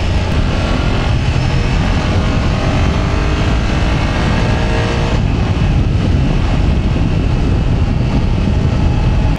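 A 2024 BMW F 800 GS adventure motorcycle ridden off-road over bumpy ground, its engine droning loudly and steadily with heavy wind rush over the microphone throughout.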